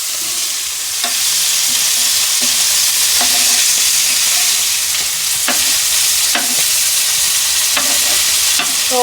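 Bombay duck fish frying in a pan of oil, giving a loud, steady sizzle throughout, with a few soft stirring knocks from a utensil, close by and with no voices.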